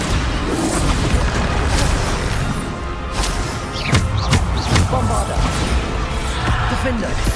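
Bombarda spell blasts in the Hogwarts Legacy video game boom and crash repeatedly amid dense, loud combat noise, with a player calling out spell names over the action.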